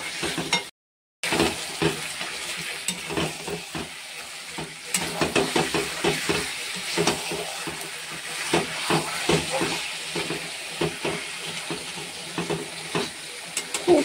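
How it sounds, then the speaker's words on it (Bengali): Desi (country) chicken frying with chilli, turmeric, Kashmiri chilli, coriander powder and cumin in a pan, a continuous sizzle broken by rhythmic stirring scrapes and clatters, after a brief silent gap at the start. "মাংসটাকে কষে নিতে হবে।"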